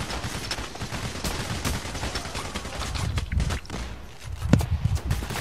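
Heavy gunfire in the heist shooter Payday: The Heist during a poolside BBQ mission, a dense run of overlapping shots with louder close bursts near the end, mixed with scuffling movement.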